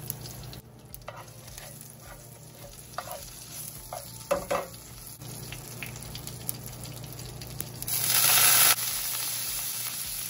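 Green chillies, mustard seeds, curry leaves and asafoetida sizzle in hot oil for a dhokla tempering, a soft steady crackle with light stirring clinks, then a louder hissing burst near the end.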